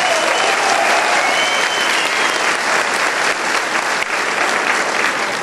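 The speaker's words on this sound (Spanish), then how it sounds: "Un aplauso de memoria para el comandante Hugo Chávez." Steady, loud applause from an audience at the opening session of a peasant reserve zones (ANZORC) gathering, sustained clapping throughout with no pauses.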